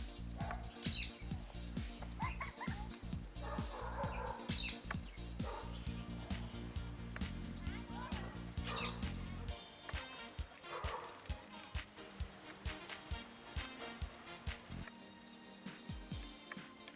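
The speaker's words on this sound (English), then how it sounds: "That bird is called Common Iora. It is a small passerine bird found across the tropical Indian subcontinent" Common Iora birds call in the wild around Mysore in the tropical Indian subcontinent, a series of short sharp chirps and whistles scattered over a busy outdoor background, with a steady rhythmic pulse of clicks taking over in the second half.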